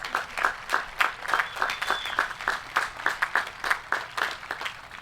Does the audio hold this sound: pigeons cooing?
no